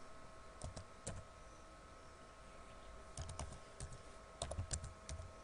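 Keystrokes on a computer keyboard while entering text in a photo editor, quiet taps in short scattered bursts with pauses between them and no talk.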